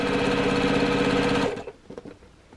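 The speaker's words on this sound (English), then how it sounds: "I'm just going to sew down 1/4 of an inch on that seam there" A sewing machine stitching a quarter-inch seam on a quilt block runs loud and steady with a rapid mechanical rhythm for about a second and a half, then stops, leaving a few small handling clicks.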